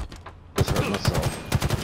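Rapid bursts of automatic gunfire in a Halo capture-the-flag match, loud and close, with a short quieter stretch before the main volley and repeated rhythmic shots after.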